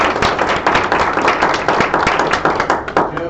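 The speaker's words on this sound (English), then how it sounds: "so I think he deserves a big round of applause." Meeting audience applauding a colleague named as distinguished principal, a dense, loud round of many hands clapping steadily throughout.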